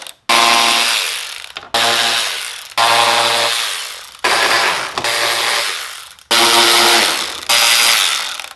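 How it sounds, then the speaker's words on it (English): An impact-style power tool removes bumper bolts from a Ford Mustang GT, firing in five loud, close bursts of ratcheting mechanical whirring separated by brief pauses, with no talking. "I'm using power tools because usually I just use like ratchets and stuff"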